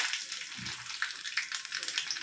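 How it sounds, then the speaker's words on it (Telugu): Mustard seeds spluttering in hot oil while making majjiga charu, a buttermilk curry: a hissing sizzle with scattered sharp pops and crackles, close and fairly faint. "ఆయిల్ బాగా వేడెక్కిన తర్వాత ఆవాలతో ఆవాలు వేయాలి ఫ్రెండ్స్ అప్పుడే మనకు తొందర తొందరగా చిట్టుకట్ట పడతాయి"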